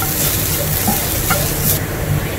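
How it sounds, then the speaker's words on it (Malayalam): Spice powders roast in hot oil in a pan for a prawn roast, giving a constant close, dense sizzle with faint scraping of stirring and a few small ticks. "അപ്പം ഈ നമ്മളുടെ പൊടികൾ മൂക്കട്ടെ."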